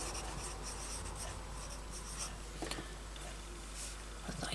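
A pen scratching across paper while writing notes, a continuous close scribbling with small bursts of stroke sounds, no speech.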